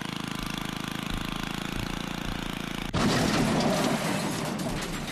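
A lawnmower engine in the Happy Wheels video game drones steadily, then jumps abruptly into a louder, rougher, more intense roar partway through, with no talking over it.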